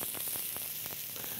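Spices and sesame seeds frying in very hot oil give a steady close sizzle with faint crackles throughout, with no talking.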